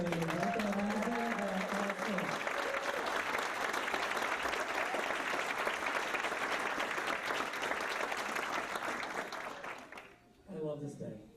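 Sustained applause from an audience at a Hall of Fame induction ceremony, steady and full for several seconds before tapering off, with a voice speaking at the start and again as the clapping fades.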